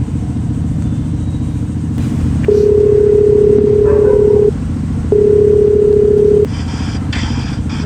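Phone dialing out to place a call, with two long steady ringback tones separated by a short pause over a constant low background hum, loud and close.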